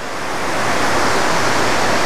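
A waterfall tumbles over dark mossy rocks, a loud steady broadband rush that swells slightly and continues without pause or voices.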